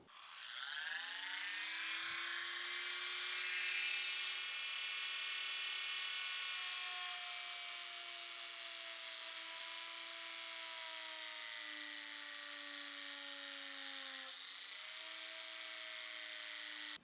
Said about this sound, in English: I'm gonna just Dremel out a little bit bigger channel there just to make sure there's no tight spots